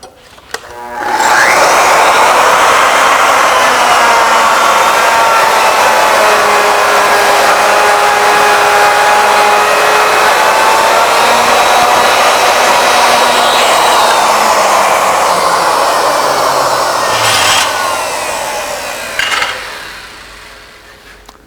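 A router bit on an ornamental mill cuts a spiral into a workpiece, a loud sustained high whine starting after a second, holding steady for about eighteen seconds, then winding down with a couple of brief knocks near the end.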